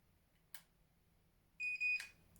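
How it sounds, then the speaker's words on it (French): A Saint Algue Demeliss steam hair straightener gives a short, faint electronic beep with a brief click just after, in an otherwise quiet room. "Alors, ça fait un bip."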